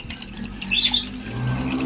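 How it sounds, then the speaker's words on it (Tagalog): Water poured onto ground rice to dissolve it, a short close splashing and trickling pour with small bubbly, squeaky gurgles and no talk. "lagyan na natin ng tubig mga kaibon para matunaw yung giniling na bigas"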